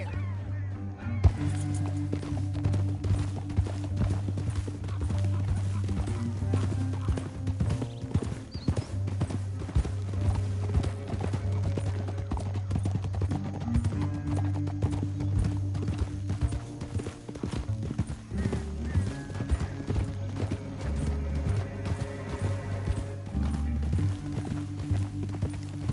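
Horse hooves clip-clop steadily in a western-themed PS4 video game, a continuous rhythmic trot of hoofbeats over a low droning background, with no talking.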